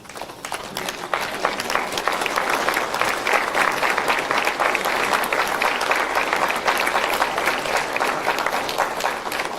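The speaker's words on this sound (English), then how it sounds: "I'd like to ask for y'all to stand up and give Mr. Engel a round of applause" A crowd applauds at a Veterans Day program, with steady, even clapping that continues throughout at moderate volume.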